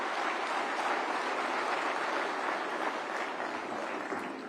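An audience in a hall at the International Handloom Day event in Vigyan Bhawan, New Delhi, applauds to welcome the Union Textiles Minister, a dense, even wash of clapping that continues throughout and tapers slightly at the end.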